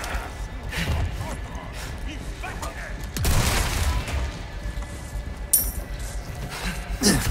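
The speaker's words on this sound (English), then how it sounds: "I'm wasting ammo by missing all my shots." Gunfire in the video game Resident Evil 4 Remake comes as several sharp, loud shots and booms spaced across the stretch, with faint background game sounds and no clear talk.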